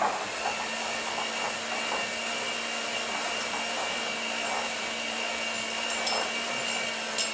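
An electric mixer whirs steadily as it blends almond date blondie batter with light brown sugar, giving a continuous moderate motor hum with occasional faint knocks against the bowl.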